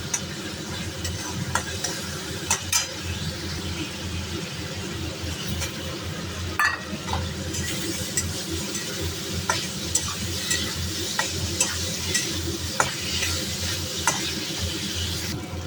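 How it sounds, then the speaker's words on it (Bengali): Soybean chunks fry together with spice paste in a pan, giving a constant close sizzle under frequent spatula scrapes and light metallic clinks throughout. No voices. "সয়াবিনটা এই মশলার সঙ্গে ভেজে নেবো"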